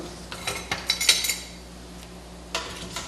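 A spoon stirs cheese sauce in a pot, scraping and clinking against the sides in a quick cluster of strokes, then a pause and a couple more soft scrapes.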